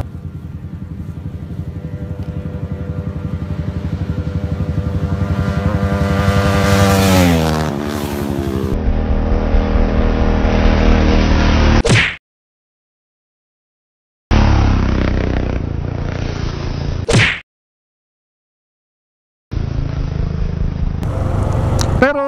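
A Yamaha R3 and a Suzuki Raider motorcycle race, with loud engines revving and climbing in pitch through the gears. The sound cuts off abruptly several times, leaving brief silent gaps between bursts of engine roar.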